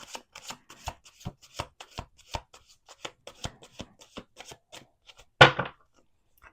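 A quick, rhythmic series of crisp card flicks from a close riffle shuffle, ending in a louder bridging rustle, then silence.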